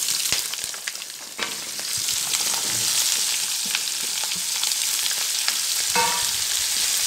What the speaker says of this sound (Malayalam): ഇതിലേക്ക് നമുക്കിനി അരിഞ്ഞ് വെച്ചിരിക്കുന്ന സവാളയും, ഒരു 3 സവാള, 1 കപ്പ് ചുവന്നുള്ളി, 6-7 പച്ചമുളക് ഇത്രയും ചേർത്താണ് ഞാൻ അതിനകത്ത് ചേർക്കാൻ പോകുന്നത്.